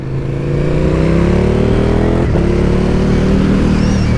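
A car engine revs steadily and loudly close by, its pitch climbing smoothly and holding a sustained, rising drone.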